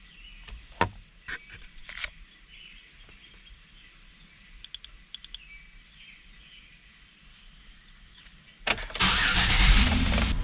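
A Chevy Equinox with a 5-volt reference circuit fault sits quietly with a few faint clicks and taps, then the engine cranks and catches near the end, settling into a loud, close, steady run.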